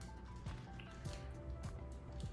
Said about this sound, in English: Now we just add the mayonnaise to the bag.